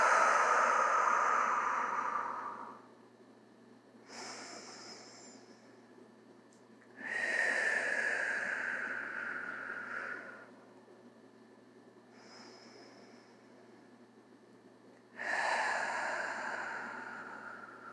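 Slow, deep prenatal yoga breathing close to the microphone: long airy inhales and drawn-out exhales through nose or mouth, alternating in a steady unhurried rhythm with quiet pauses between breaths.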